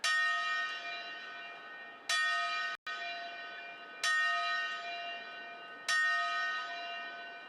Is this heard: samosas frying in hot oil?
no